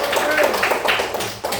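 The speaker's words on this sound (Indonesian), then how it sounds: "Tepuk tangan untuk kelompok 3." A classroom of students claps for a group, with a short burst of close, fairly loud hand clapping and voices mixed in.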